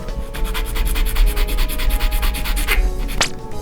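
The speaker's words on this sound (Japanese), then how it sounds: "じゃあどんどん削っていきたいと思います。" A scraper blade is drawn repeatedly across plastic sheet while shaping a scratch-built model gun, giving a steady run of close, rhythmic rasping strokes followed by one sharper scrape near the end.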